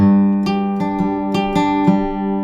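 An acoustic guitar is fingerpicked, with a steady pattern of individually plucked notes ringing over one another, close and clear.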